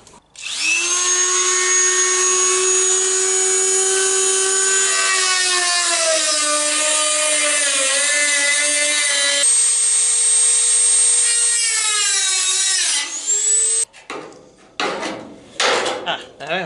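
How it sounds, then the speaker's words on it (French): A power cutter, likely an angle grinder, slices through rusted, badly corroded sheet metal on a Citroën Traction 11 BJ with a loud, sustained metallic whine that shifts pitch under load, then stops abruptly, leaving scattered clanks. "il faut que je découpe toute cette partie de ferraille qui est complètement oxydée"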